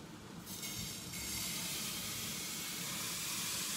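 Pancake batter sizzles in a well-heated frying pan, a steady close hiss that swells louder after the first second and holds evenly, with no one talking.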